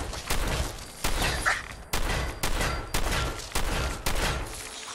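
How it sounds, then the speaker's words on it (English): Repeated heavy gunfire in Fallout 4's Nuka World DLC, with loud, evenly spaced booming shots roughly every half second over a constant rumbling game background. "Shoot the gun! Shoot the gun!"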